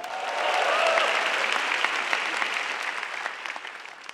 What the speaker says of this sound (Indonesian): Sekali lagi teman-teman, tepuk tangan untuk Balai Sarbini.